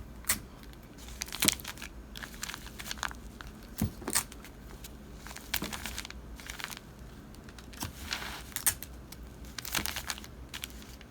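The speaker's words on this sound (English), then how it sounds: "And tape the paper closed." Paper being handled and taped closed while sewing pattern pins are removed, with sporadic crinkling rustles and sharp tape pulls and tears, fairly close and intermittent, no voices.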